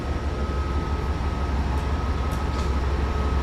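Passenger train locomotive number 53 rumbling steadily with a deep low drone and faint clanks, heard continuously from close by.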